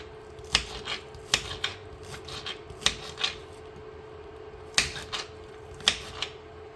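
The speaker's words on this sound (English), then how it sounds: "I'm going to cut it up fine." Sharp knife chopping green onions finely on a cutting board: crisp, close cuts arriving in quick pairs and small clusters with short gaps, no talk.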